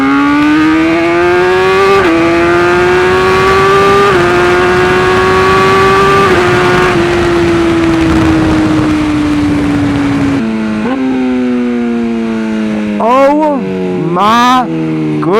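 A BMW S1000R motorcycle engine revs loud and close throughout a ride, its pitch climbing and dropping with each gear change, ending in several quick throttle blips over wind rush.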